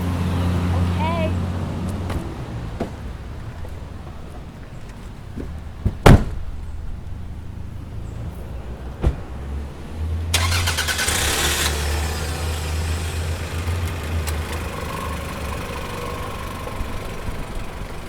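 A car door thuds shut, then a car engine cranks and starts and settles into a steady idle, heard up close on a hot day outdoors.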